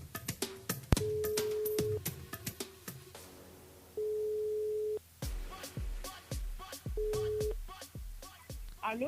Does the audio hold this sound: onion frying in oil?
no